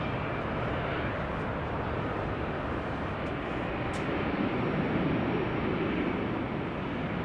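KM Malta Airlines airplane at Amsterdam Schiphol airport, a steady broad engine roar that swells slightly midway, heard alone without talk.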